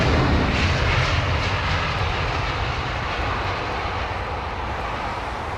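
A British Airways airliner touches down on the runway in a light wind, its steady, loud broadband engine and rolling roar filling the air and easing slightly toward the end.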